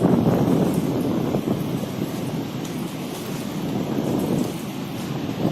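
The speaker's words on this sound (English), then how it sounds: "Those are the tides. It's Indian Ocean if I am not wrong." Indian Ocean waves in a lagoon beside a water villa at Meeru Island, a steady broad wash of surf with wind noise, fairly loud and continuous with no voices.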